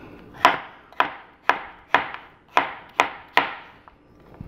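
A kitchen knife slices through a cucumber on a cutting board in seven crisp, evenly spaced chops, each a sharp close tap with a short fade, with quiet pauses between cuts.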